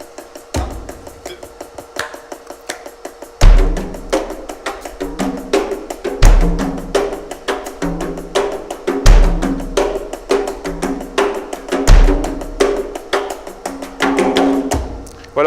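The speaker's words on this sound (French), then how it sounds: "Donc Léo, on s'est dit on va mélanger au départ pour l'intro avec ce rythme là, mélanger de l'électronique" An acoustic drum kit plays together with an electronic drum-machine beat in a steady, driving groove, with loud kick and snare hits and repeated accents, close up and without talking.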